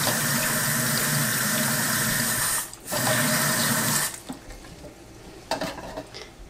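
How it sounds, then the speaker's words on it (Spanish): Water runs steadily into a cooking pot for mole de frijol güero, a loud continuous stream that pauses briefly, resumes, then trails off into softer splashes and trickles. "Y ya, le echo agua"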